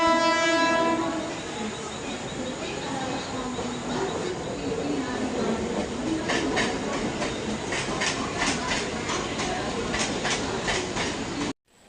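A train pulls into Dadar station platform with a long, loud horn blast at the start, then a steady rumble and rhythmic clatter of wagons passing close, rising to a burst of clickety-clack before cutting off.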